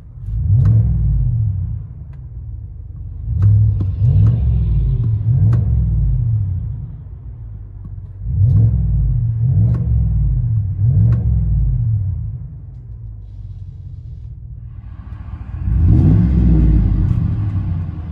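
A Chevy Silverado or GMC Sierra pickup engine revs heard from inside the cab, with several rising bursts of rumbling acceleration over a low steady idle, fairly close and moderately loud.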